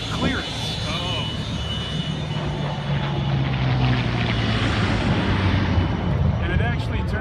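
Propeller warbird aircraft with a 12 to 14 foot propeller at the Chino Planes of Fame airshow, a steady loud engine drone with rising intensity, heard from a moderate distance amid crowd noise.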